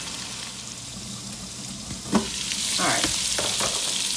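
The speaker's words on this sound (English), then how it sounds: "So I'm going to just allow these tomatoes to cook down for about a minute" Tomatoes cooking down in a pan for Haitian stew fish with coconut, giving a steady, fairly loud sizzle with a sharp utensil tap and some stirring scrapes partway through; a voice speaks briefly.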